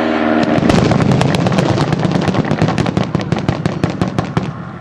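Bombs dropped from an aircraft explode on a bunker in a dense, rolling barrage of sharp blasts and crackling bursts, loud and close at first, then thinning into scattered pops.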